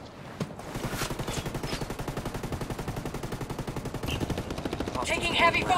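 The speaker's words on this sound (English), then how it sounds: "Taking heavy fire." Sustained rapid automatic gunfire from a video game keeps up a steady rattling burst pattern at close range for several seconds, with a few louder crackling shots near the end and some game voice audio mixed in.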